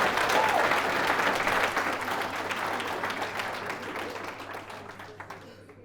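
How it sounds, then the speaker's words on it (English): An audience at a leadership talk applauds, a full burst of clapping that starts strong and slowly tapers off, with some voices mixed in. "You've got to give me a round of applause."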